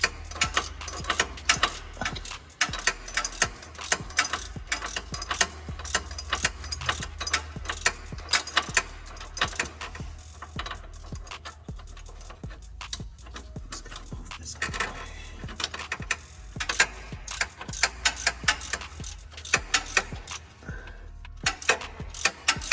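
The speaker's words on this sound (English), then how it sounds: "Heavy wrenching." A ratchet wrench clicks steadily as a long bolt is worked loose during a starter swap on an Infiniti G37, fast close-up ratcheting in bursts with short pauses and no talk.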